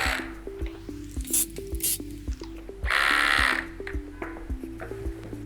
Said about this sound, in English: Now with all those screws in place, we're going to go down and tighten them all.